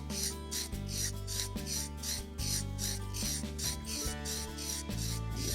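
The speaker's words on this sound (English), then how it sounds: "I'm sharpening a U-shaped tool. It's a number 7 gouge U-shaped tool." A number 7 U-shaped carving gouge is rubbed back and forth on a sharpening surface at its bevel angle, making a steady rhythmic rasping stroke about every half second, close and alone.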